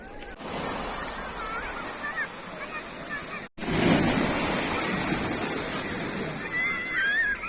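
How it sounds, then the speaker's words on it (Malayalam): Waves washing up on a pebble beach at Tiwi, Oman, with a rush of water and wind noise; a brief dropout midway, then the surf surges loudly. "വെള്ളം നല്ല നല്ല ഊക്കിന് വരും തിരയുണ്ട്"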